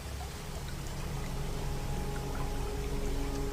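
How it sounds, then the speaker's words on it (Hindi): Water pouring steadily from a tube well, a faint continuous splashing rush that holds even throughout without breaks. "गोपाल ट्यूबवेल से पानी पीने लगा।"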